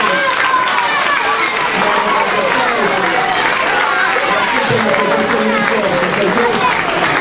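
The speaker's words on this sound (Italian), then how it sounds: "io farei un applauso a tutte le associazioni." An audience applauds at a public event honouring local volunteer associations, with steady clapping that fills the space and a murmur of crowd voices running beneath it.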